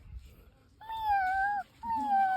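A voice imitates a cat with two drawn-out, wavering meows, close and clear.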